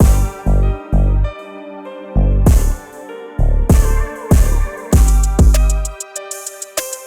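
A punchy Detroit-style hip-hop beat made in FL Studio with heavy booming bass hits and chords, pausing briefly before the full groove drops back in with crisp hi-hats.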